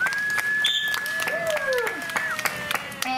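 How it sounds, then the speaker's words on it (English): Applause for a sea lion at a dolphin center, with scattered claps amid outdoor crowd noise, high whistles and chirps sounding over the top, and voices faintly present. "we can give her a big round of applause."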